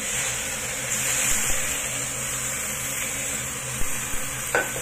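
Water goes into a hot pan of frying noodles, producing a steady, loud sizzle and hiss throughout, with a few faint clinks of utensils near the end.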